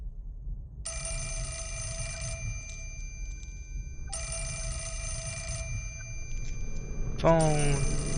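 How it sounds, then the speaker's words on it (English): A telephone rings in the Fatal Frame video game with bright electronic trills in two long bursts separated by a pause, then a third begins as a voice speaks over it. "Phone."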